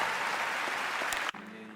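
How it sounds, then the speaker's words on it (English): An audience applauding at an awards-style event, a broad steady roar of clapping that abruptly drops off near the end, leaving a faint tone and room sound. "So please, a round of applause for them."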